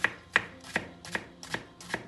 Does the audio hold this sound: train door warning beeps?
no